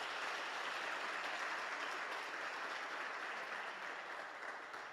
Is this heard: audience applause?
yes